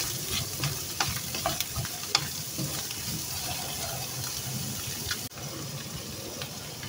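Garlic sautéing in a pan for Filipino ginisang monggo, with a steady sizzle and fry broken by scattered scrapes and clicks of stirring, close and continuous throughout.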